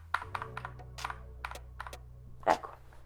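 Keys pressed on a Keychron K2 mechanical keyboard, a series of distinct clicky keystrokes in an uneven rhythm ending in a louder press, close up over a low steady hum, with no talking.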